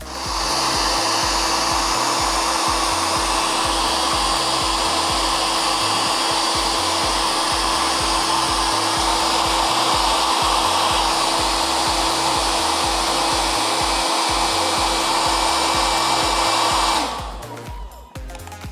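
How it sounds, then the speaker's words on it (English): A hair dryer heating a JBL Flip 2 Bluetooth speaker blows steadily at close range with a constant loud whir and whine, then shuts off near the end, leaving faint handling noise. "you have to give heat using hair dryer"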